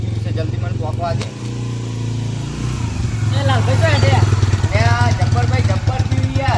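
A motorcycle engine runs nearby in a loud, continuous idle with a steady low throb, while several voices talk over it.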